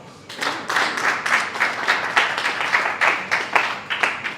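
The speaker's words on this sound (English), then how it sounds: "So give him a good round of applause." Workshop audience in Abuja giving a round of applause, distinct individual claps in a quick irregular rhythm, close and fairly loud, with no talking.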